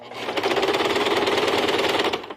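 A sewing machine stitches bias binding onto fabric for small maternity-bag organizer pouches, running steadily and fairly loud with a fast, even needle rhythm throughout.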